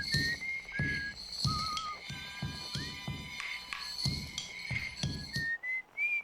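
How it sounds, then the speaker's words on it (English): Melodic whistling drifts through the video game Outer Wilds, gliding tones over a steady rhythmic thumping beat, continuing for several seconds with no talk. "Oh, that's whistling."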